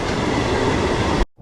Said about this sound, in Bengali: এটা বর্ধমান যাওয়ার ট্রেন, এটা সুপার আছে, সেই জন্য এখানে দাঁড়াবে না।